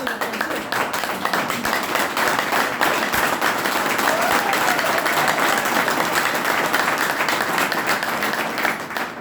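Sustained applause from a seated audience at a business leadership gathering, dense and steady clapping that stays loud for the whole stretch before tapering slightly at the end.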